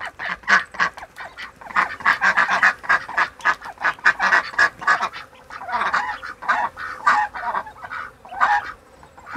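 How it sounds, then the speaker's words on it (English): Ducks or geese behind a garden fence, three females and one male, honk and quack repeatedly in quick, overlapping bursts, fairly close and loud, with no talk over them. "There they are, little duckies."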